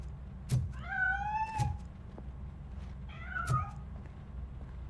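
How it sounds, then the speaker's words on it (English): A cat in the video game RoboCop Rogue City meows twice, close and clear, each cry a rising then falling wail over a low game ambience. "That cat must be hiding inside."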